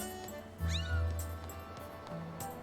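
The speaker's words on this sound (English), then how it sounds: "they are not cats even though like they sound like one" A cat-like creature in Zelda: Skyward Sword HD lets out a single clear meow over a steady game music backdrop, with a low synth drone underneath.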